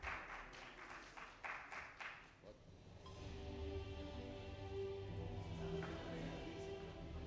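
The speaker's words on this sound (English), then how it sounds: "Some round of applause, come on everybody" Audience applause at a PSU 2024 conference on digital transformation, a burst of clapping in the first couple of seconds that then gives way to a steady, fairly loud background hum.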